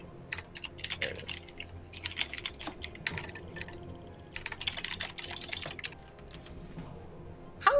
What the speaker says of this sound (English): How loud is my typing? Extremely.